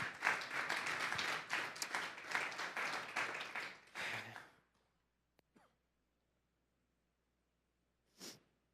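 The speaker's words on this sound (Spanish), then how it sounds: "Le damos un fuerte aplauso pues al Señor." A church congregation claps together for about four seconds, a dense, steady patter that fades out. It is followed by near silence, a couple of small clicks and one brief breathy sound near the end.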